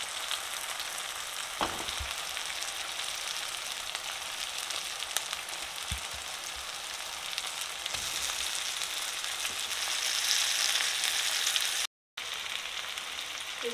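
Chicken curry masala fries in oil in a pan over low heat, giving a continuous close sizzling crackle with a few soft stirring knocks, and no voices.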